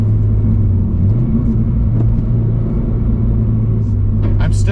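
A car engine rumbles steadily through a heel-toe downshift into third gear, a low drone dipping and briefly rising in pitch as the revs blip, with a few faint clicks and rustles near the end.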